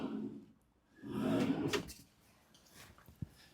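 A large food drawer below the pantry of a 2025 Noovo Lite Class B RV slides open or shut, a moderately loud rolling swoosh lasting about a second, followed by quieter faint clicks and a small knock near the end.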